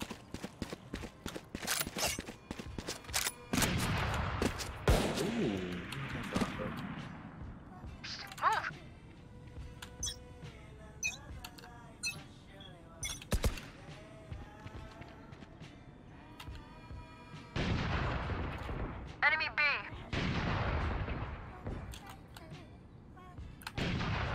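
Gunfire in a Valorant match comes in several sharp bursts with some echoing booms, mixed with footsteps and other game effects, while players talk over much of it.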